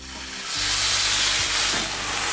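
A steak for medium rare sears in a hot pan, a loud, close, steady sizzling hiss that surges in after a brief quieter start and holds throughout.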